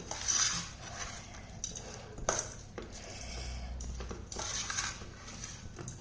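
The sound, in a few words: mixing tempering into cooked rice with a spoon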